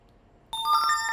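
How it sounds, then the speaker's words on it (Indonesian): A short bright chime rings out from a job-application app right after an internship posting is sent, a quick cluster of clear tonal notes starting abruptly after near silence. "maka muncul notifikasi bahwasanya magangnya terkirim"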